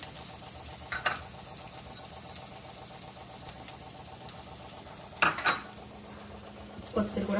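Coriander is tossed into onions frying in a pan for tomato pickle, with a soft steady sizzle under scattered clinks and scrapes of a spoon against the pan, near and fairly quiet.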